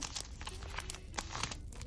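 Paper surprise packets from an advent calendar collection crinkle and crunch as they are handled, in quiet, close, continuous rustling with small sharp crackles and no talking.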